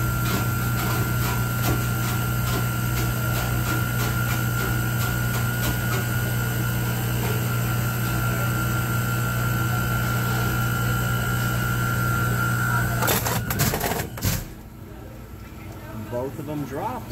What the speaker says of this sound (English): Let's just watch it make ice.